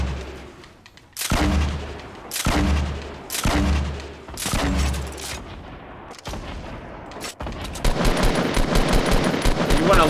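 Bursts of gunfire from the video game Fortnite, several loud separated volleys with pauses between them, ending in a denser run of rapid shots.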